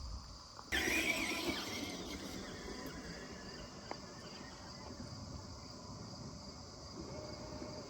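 A waterproofed RC crawler runs fully submerged at full throttle, with a sharp squealing whine at first and then a muffled, steady motor drone under the water.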